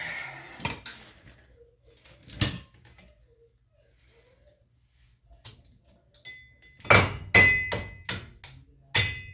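Several sharp metallic strikes, a couple isolated early on, then a quick burst of five or six hammer blows ringing on metal, fairly close, hammering out a cotter pin on a Dana 60 axle.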